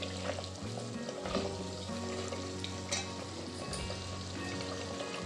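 Homemade ghee sizzles steadily in a pan while being stirred slowly, a continuous close crackle with occasional scrapes and no talking.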